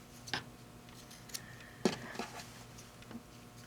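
Scissors trim the fabric corners of a microwave bowl cozy, giving a few quiet, sharp snips spaced apart over a faint background.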